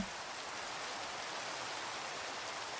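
Rain in Minecraft, a steady soft hiss of falling drops, faint and even throughout with no other sounds.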